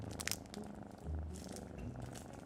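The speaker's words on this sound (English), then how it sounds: "Oliver has a large black cat on his knee." A large black cat purrs on someone's knee indoors: a faint, steady low rumble with a regular rhythm, alone and close by.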